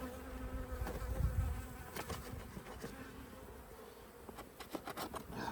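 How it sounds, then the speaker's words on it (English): An open beehive being inspected in spring, with honey bees buzzing loudly close by, one swelling nearer for a moment, plus scattered clicks and knocks of hive handling; no one speaks. "Go away, bee."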